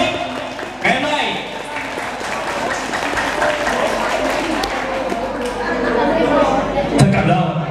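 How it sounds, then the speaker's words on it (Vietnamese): An audience at a Vietnamese community spring celebration at Ocean Lake applauds after a fan dance. The clapping is a dense, sustained patter of many hands, and a voice speaks over it throughout. "tất cả quý vị dành một tràng pháo tay cảm ơn tới những người Việt Nam sống tại Ocean Lake ngày hôm nay"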